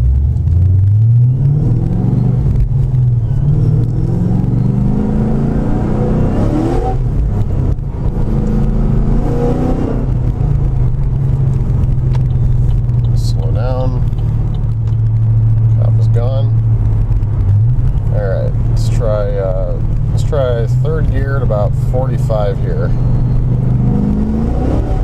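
A car fitted with a Whipple supercharger accelerates away from a light, its engine rumbling loudly and rising in pitch through the gears, with a brief talking voice partway through.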